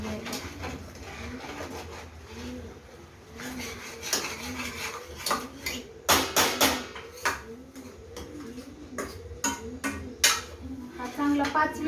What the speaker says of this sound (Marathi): हा मसाला छान परतून घ्यायचा.